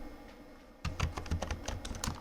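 Computer keyboard keys are tapped in a quick, uneven run of clicks while text is typed into the Edius titler, starting after a short quiet stretch and heard close and alone.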